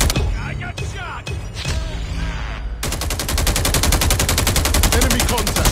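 Gunfire in a multiplayer shooter video game: loud, close bursts of rapid automatic shots, building into a continuous dense rattle in the second half, mixed with game effects and a voice calling out.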